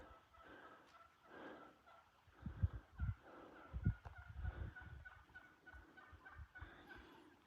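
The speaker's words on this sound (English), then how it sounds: "We've got some wild turkeys going on here." Wild turkeys gobble in scattered bursts at a moderate distance on the Pacific Crest Trail near San Ysidro Creek, with low rustling thumps mixed in against a quiet outdoor background.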